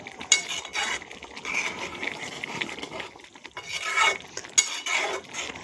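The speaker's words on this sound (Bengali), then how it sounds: "এবার একটু নেড়ে চেড়ে নিতে হবে" A spoon scraping and clinking against a pan while stirring matar paneer, a peas and paneer curry, in short uneven bouts of rasping strokes and metallic taps, close and fairly clear with no talk.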